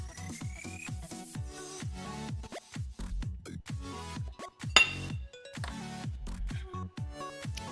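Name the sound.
stirring brownie batter with black beans and vanilla extract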